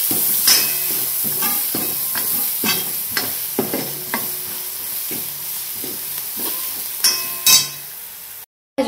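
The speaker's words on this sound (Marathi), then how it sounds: "कांदा टाकला भाजायला।" Onion fries in a pan on a home stove with a steady sizzle, while a spoon stirs it in repeated scraping strokes and sharp clinks against the metal, close and clear with no talking.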